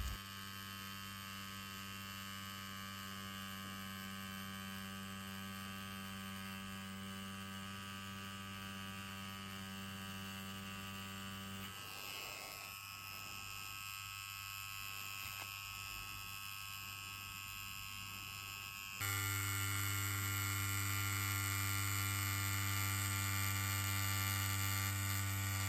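A CNC Hammer tattoo machine runs with a 7 round liner needle, a steady close electric buzz that holds a constant tone, shifts briefly partway through and then comes back louder and steadier, with no talking.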